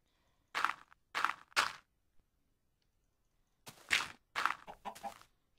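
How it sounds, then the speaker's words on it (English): A Minecraft chicken clucks in two clear groups of short, close bursts separated by silence. "Oh, I hear a chicken."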